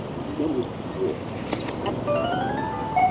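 A faint electronic chirping tune from a pedestrian crossing signal for the green light on Avenue Franklin Roosevelt in Paris plays over street background noise, with a brief click partway through.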